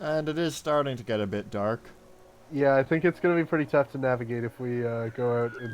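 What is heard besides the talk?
No everyday noises stand out.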